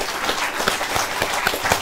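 Audience applause at a Hindi poetry gathering, a brief, steady wash of many hands clapping with a few sharper claps standing out.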